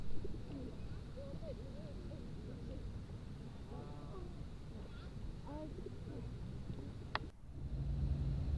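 Pigeon cooing in short repeated phrases in Regent's Park, London, fairly faint over a steady outdoor rumble, with a brief sharp sound near the end.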